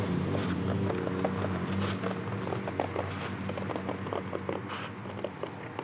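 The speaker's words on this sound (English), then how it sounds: "I can cut with my scissors." Scissors snip through paper up close, a series of small irregular cutting and rustling sounds at a quiet, even level without talking.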